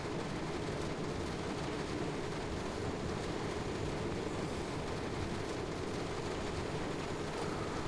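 A train in the Train Sim World 2 simulator runs on the Brighton Main Line, giving a steady, loud rumble of wheels and rolling stock that continues unbroken with no voices.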